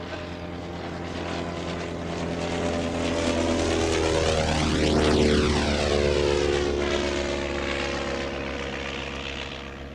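A vintage propeller aircraft burning castor oil drones past at an evening air show, its engine swelling loud as it nears, with a clear pitch sweep overhead before fading away. No voices.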